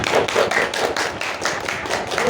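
Classroom applause for a student group after their presentation, a steady patter of clapping from many hands lasting a couple of seconds at moderate loudness.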